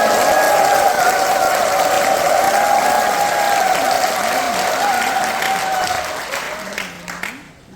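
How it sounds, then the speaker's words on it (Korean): A crowd at an association event claps loudly and continuously, a steady roar of applause under a sustained tone from the room's sound system, fading toward the end as a voice begins to speak. "큰 박수"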